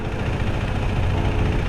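Husqvarna Svartpilen 401 motorcycle, a 400cc single with an open pipe, idles steadily nearby with a loud, continuous low rumble and no talking.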